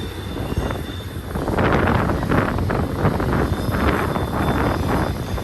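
Loud gusting wind buffets the microphone in a continuous roaring rush at Sullivan's Curve, with the deep rumble of a passing BNSF intermodal freight train underneath.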